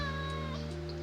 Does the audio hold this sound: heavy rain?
no